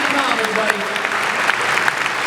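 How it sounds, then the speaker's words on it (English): Audience at a convention spotlight panel applauds, a dense burst of clapping that stays loud and steady throughout, with scattered cheers and voices mixed in. "Give a round of applause."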